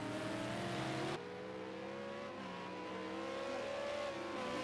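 Simulated V8 Supercars racing at Bathurst heading into Forest Elbow, with a loud, steady engine drone and shifting pitch as the car brakes and drops gears, close and continuous throughout.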